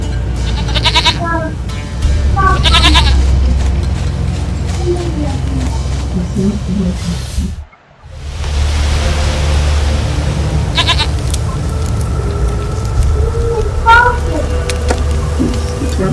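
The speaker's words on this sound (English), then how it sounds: "Goat of mine, dearest, sweetest goat." A goat bleats repeatedly in The Witcher 3: Wild Hunt: wavering cries come early, again in the middle, and near the end. Continuous outdoor game ambience runs beneath them and drops out briefly partway through.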